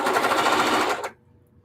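A sewing machine runs fast and loud through doubled-up old jeans, up to eight layers deep, in a dense rapid whir that stops abruptly after about a second, leaving near silence before a brief restart.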